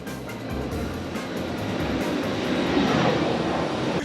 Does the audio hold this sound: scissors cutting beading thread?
no